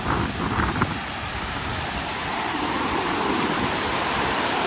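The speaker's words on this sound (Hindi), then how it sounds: "पूरा ये डैम ओवरफ्लो होने के बाद ये पानी पूरा नीचे आ रहा है" Water spills over a dam and rushes down in Kundalika Valley on the Andharban jungle trek, a steady broad roar of falling water with wind-like hiss and no speech.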